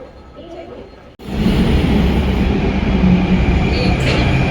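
Delhi metro train noise fills the space after a brief quieter opening, a steady loud rumble with broadband hiss holding until the end; a voice is faintly present.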